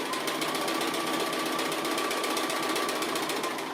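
A sewing machine stitches appliqué along a box lid outline, a steady, fast mechanical chatter running continuously at close range with no talk.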